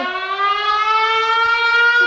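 A civil defense air raid siren wails during an attack alert in Pavlohrad, Ukraine, a loud steady rising tone with rich layered harmonics sustained throughout without a break.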